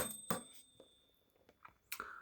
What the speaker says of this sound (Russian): Чашка звонка.